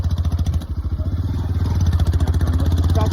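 A Yamaha FZ-S motorcycle climbs a hill off-road. Its engine pulses loudly and steadily up close with a quick throbbing beat, and faint clatter rides underneath.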